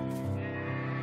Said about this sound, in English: Sheep are really loud.